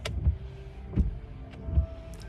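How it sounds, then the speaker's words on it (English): Car windshield wipers sweep in a slow, even rhythm, each pass ending in a soft thump roughly every three-quarters of a second inside a quiet parked car. "I got my window wipers on."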